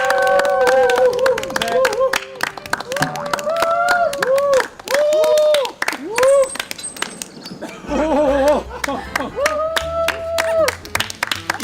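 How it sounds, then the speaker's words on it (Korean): An audience claps and cheers as a lecturer is welcomed at a talk event, with sharp, scattered claps running throughout and mixed with excited vocal calls and brief talking. "큰 박수 부탁드리겠습니다"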